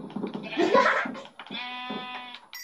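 A sheep bleats in a sustained, buzzy electronic tone after a burst of laughter and excited chatter, with a short game beep at the end.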